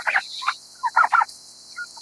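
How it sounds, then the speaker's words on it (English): Turkeys on a rural turkey farm give several short, bubbly gobbling bursts in quick irregular succession, fairly close and moderately loud, with no talking over them. "we found ourselves some turkeys"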